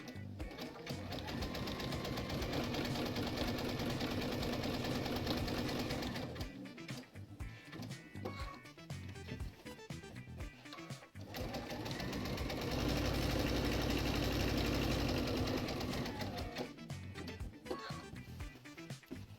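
A sewing machine runs at speed stitching a quilt-as-you-go border, a dense continuous mechanical whir that drops away briefly in the middle before resuming, close and steady with no speech.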